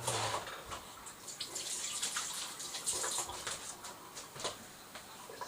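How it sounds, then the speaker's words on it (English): Water runs and splashes continuously from a tap as hands are rinsed in a kitchen, a soft, close stream with small irregular splashes and no talking. "wash the excess off your hands, dry your hands thoroughly"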